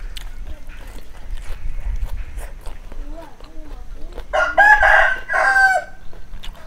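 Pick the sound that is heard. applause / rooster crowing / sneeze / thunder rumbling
rooster crowing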